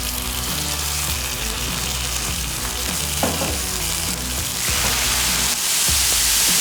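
Food sizzles loudly and steadily on a Pit Boss KC Combo griddle, a bright continuous frying hiss that swells a little toward the end, with no voices.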